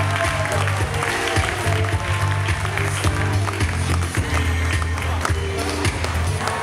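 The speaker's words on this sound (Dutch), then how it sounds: "Geef haar een overdrovend applaus, Rianne van Duin." Clapping from a crowd at a Dutch Eredivisie championship final rattles on continuously with low humming tones and sporadic voices underneath, fairly loud and close.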